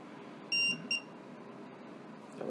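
Two short, high electronic beeps close together, the first longer than the second, over a quiet room hum.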